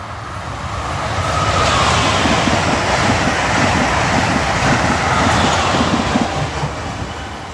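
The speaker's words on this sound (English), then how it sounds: "Enjoy the trains." A southbound Northeast Regional train rumbles past close by under overhead electric wires on the Northeast Corridor, a steady loud roar of wheels and rails that holds for several seconds before easing slightly at the end.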